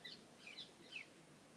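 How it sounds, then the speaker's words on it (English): Birds outside give a few faint high chirps over a soft, steady background hum, distant and brief. "Birds. What is your deal?"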